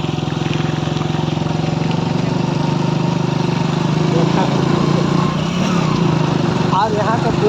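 A scooter engine hums steadily while riding along a rough dirt track through forest and hills, a constant mid-pitched drone with wind noise throughout.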